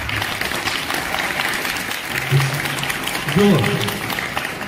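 Audience applause at a school folk performance (lok dayro) in Paddhari, a steady broadband clapping wash with speech and a brief voiced sound riding over it.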